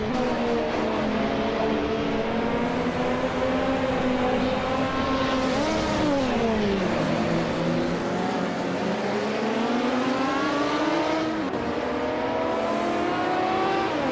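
Group 5 race cars in a racing video game scream along in a continuous loud engine drone, the pitch dipping and climbing through gear changes and corners, several cars close together with no voices.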